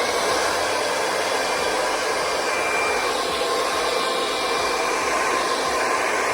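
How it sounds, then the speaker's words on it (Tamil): Hair dryer blowing steadily and close, a continuous loud airy whoosh drying hair, with no talking over it. "So with flow dryer only சொல்லி காட்டுறேன் பாருங்கள்."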